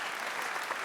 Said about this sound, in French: Non, applaudissez d'abord.